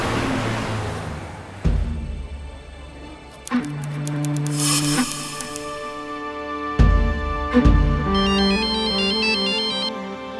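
A phone ringtone plays a repeating electronic melody, fairly loud and close, with a few sharp knocks and rustling handling sounds in between.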